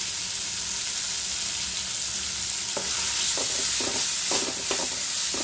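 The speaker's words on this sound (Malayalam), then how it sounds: "അരപ്പിപ്പം മൂത്ത് വന്നിട്ടുണ്ട് നമുക്കിതിനകത്തേക്ക് തക്കാളി ഇട്ട് കൊടുക്കാം" Tomato tipped into masala paste frying in a pan and stirred: a steady bright sizzle throughout, with a series of quick scraping stir strokes clustering toward the end, close and moderately loud.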